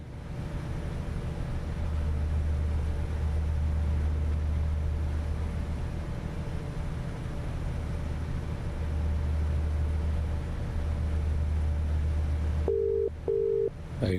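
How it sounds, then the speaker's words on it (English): A phone call ringing during a flight simulator live stream, a repeating electronic ring tone in regular bursts over a steady engine-like drone, with a short beeping pattern near the end and no speech. "I'm sure you guys can hear Benny's thing ringing"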